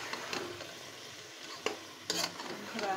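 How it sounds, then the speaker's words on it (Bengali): A vegetable dish is stirred in a pan, a faint soft sizzle with a few scraping and clinking strokes of the utensil at irregular moments. "এখন আমি এটাকে সুন্দর করে নেড়ে এখনই ঢেকে রাখবো"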